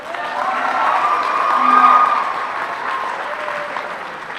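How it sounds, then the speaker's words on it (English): Graduation-awards audience applauds the valedictorian at a high school senior ceremony, a steady, moderately loud wash of many hands swelling slightly midway and easing off, with faint crowd murmur. "Obviously, you may clap, she deserves it."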